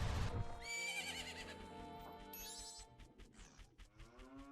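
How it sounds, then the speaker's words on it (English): The horse Epona from the video game The Legend of Zelda: Majora's Mask gives a long, clear, tonal whinny that rises and then trails off, followed by light hoof clops and synthesized game sounds. "Hey, Epona! Tragically, a female horse."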